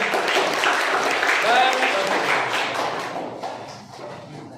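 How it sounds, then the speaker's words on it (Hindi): A classroom of children applauding during a maths lesson, a dense steady patter of clapping that gradually fades toward the end, with some voices mixed in. "चलो फिर भी तालियां बजाते रहे।"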